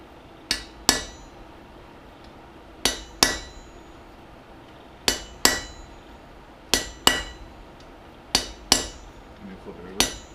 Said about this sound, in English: this part here for chiseling, I need 3 hands, so Brandon's going to step in